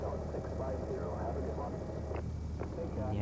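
A light aircraft engine drones steadily in Flight Sim World as the throttle is nudged on approach to the runway threshold, a low continuous hum beneath a talking voice.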